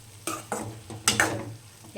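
Tomato and onion frying in a pan under a soft sizzle, with several distinct stirring scrapes and clinks of a spoon against the pan at an uneven rhythm.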